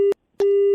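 Telephone busy tone after a call is hung up: two steady electronic beeps separated by a short silence, close and clear, with no voices.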